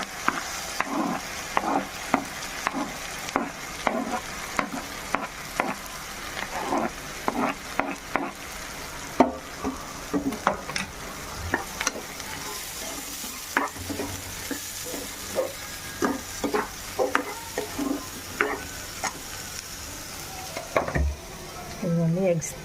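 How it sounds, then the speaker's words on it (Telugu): Onions with salt frying in oil in a pan, a steady sizzle with repeated stirring scrapes and clinks throughout, close up, during a prawn and egg curry preparation. "ఉల్లిపాయలు వేసేసుకుని మనం కొంచెం సాల్ట్ వేసుకుని అదే నూనెలో మగ్గనిద్దాం."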